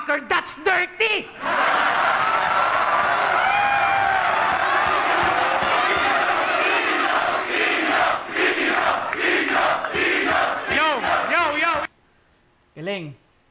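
A crowd at a rap battle roars and cheers loudly, with whoops, shouts and clapping swelling after a few spoken lines and then cutting off abruptly, followed by brief talk.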